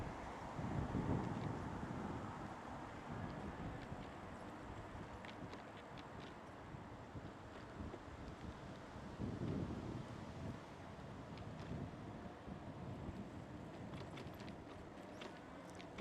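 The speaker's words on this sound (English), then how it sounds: "Wow, that wind feels good." Wind rushes and buffets against the microphone of a moving motorcycle on a ride near Fort Snelling, Minnesota, a low, steady roar that rises and falls in gusts, faint overall with scattered light ticks and no clear talk.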